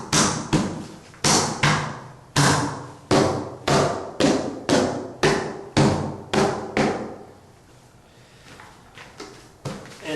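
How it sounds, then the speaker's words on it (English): A hammer taps down a paint can lid, roughly a dozen sharp, close metallic knocks in a steady rhythm, then a short pause before one more tap. "tap it with a hammer"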